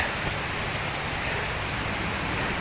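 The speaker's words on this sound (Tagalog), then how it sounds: "Nakakakalahati pa lang kami, umulan na." Steady rain pours down onto a rice field, a dense continuous patter of drops with no voices, holding an even loudness throughout.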